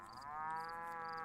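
Cow creature mooing in the video game Black and White 2, one long, steady, resonant low moo close and clear, with no talk over it.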